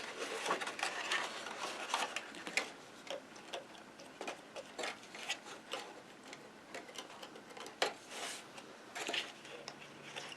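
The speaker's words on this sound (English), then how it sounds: "Forgot to burnish those tabs." Cardboard box tabs for an advent calendar are burnished with repeated faint scraping and rubbing strokes, a soft uneven rhythm of small clicks and rasps, close and quiet with no talking.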